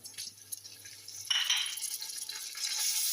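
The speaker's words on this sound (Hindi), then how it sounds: "ये प्याज हमारा जो है ये देखें अब ब्राउन होना शुरू हो गया है।" Browning onions fry in a pan for biryani as ginger garlic paste goes in and is stirred: quiet sizzling and scraping at first, then a sudden burst of louder, steady hissing sizzle that continues to the end.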